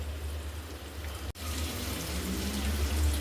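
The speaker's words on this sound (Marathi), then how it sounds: "आता आपण हे तांदूळ स्वच्छ धुवून घेऊ." Tap water runs steadily over rice being rinsed for a soybean pulao, a soft, even splashing that continues at low level, with one brief cut partway through.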